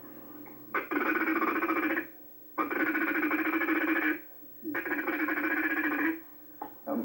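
A hand-blown duck call rattles out three sustained bursts of rapid chatter, each about a second and a half long with short gaps between, imitating ducks flying high overhead; close and loud with no talk.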